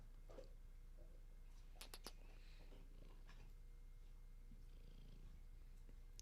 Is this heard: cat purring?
yes